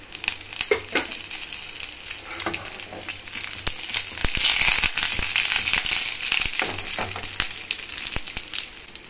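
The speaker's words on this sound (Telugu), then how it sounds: "పోపు వేయించుకోవాలి." A tempering of dry red chilli, cumin and curry leaves fries in hot oil, a close, busy crackle of sputtering pops and sizzle with scattered sharp spits throughout.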